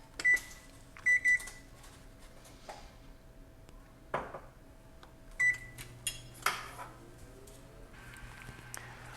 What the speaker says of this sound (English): I'm going to set my oven to 400 degrees to preheat